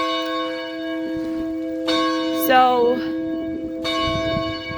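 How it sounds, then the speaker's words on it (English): Church bells ring at noon on a rainy Sunday in Portland, Ontario, with loud, resonant strikes about every two seconds and long ringing tones between them. Someone starts to speak briefly. "a few have decided to ring the bells at noon to remind us that we are in this together"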